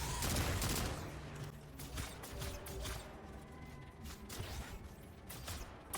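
Weapon fire in Destiny 2 during a solo legend lost sector, a dense run of rapid shots and mechanical clatter with overlapping effects and no clear speech.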